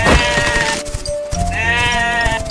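A goat bleats loudly and close by in two drawn-out, quavering calls separated by a short pause, with no other sounds around it.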